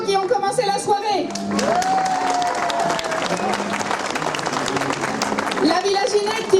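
Concert audience at an evening music event applauding with steady clapping and scattered cheers and whoops, the ovation sustained throughout at moderate loudness.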